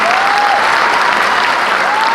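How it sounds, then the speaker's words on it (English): A crowd at a military deployment ceremony gives a round of applause for troops, their families and employers; loud, continuous clapping with a faint whistle-like tone rising briefly above it. "please give them a round of applause"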